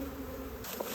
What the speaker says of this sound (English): there are some bees heading in there